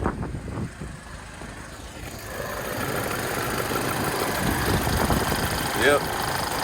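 A 2007 Audi A4 Quattro engine idles steadily at close range, a low continuous rumble with faint ticking, while a person talks over it.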